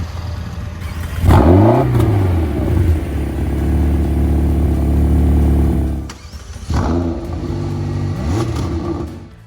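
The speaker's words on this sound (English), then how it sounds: "this does have the optional sport exhaust. Let's take a listen." A 2020 McLaren GT's optional sport exhaust barks as the engine revs up sharply, holds a rumbling idle, then revs twice more, loud and close.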